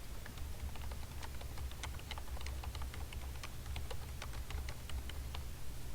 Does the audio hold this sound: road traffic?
no